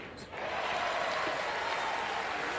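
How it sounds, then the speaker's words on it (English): A baseball crowd at Blair Field roars in a broad, sustained wash of cheering and applause that swells early and holds steady, with no clear voices standing out. "the crowd is just feeding off this here at Blair Field"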